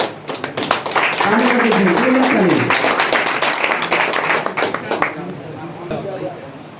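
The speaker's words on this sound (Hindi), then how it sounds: "जोरदार ताली मारो जाए" Loud applause and clapping erupt at a constitution-protection honour ceremony in Raghopur, with a voice speaking over the clapping before it fades into scattered claps.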